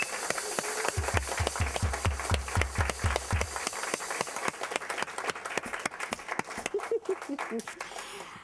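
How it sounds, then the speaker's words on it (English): An audience claps steadily, a dense patter of applause running throughout, with a rhythmic low thumping early on and a few voices near the end. "let's give another round of applause to Amy Bishop"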